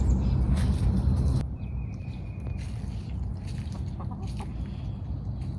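Chickens clucking in a backyard coop, with soft, scattered clucks and murmurs over a steady outdoor background and a louder rustling noise at the start.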